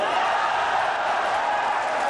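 A crowd at a 2004 World Pool Championship quarter-final reacts to a shot with a steady murmur and swell of voices, a dense, even wash of sound that holds throughout with no pauses.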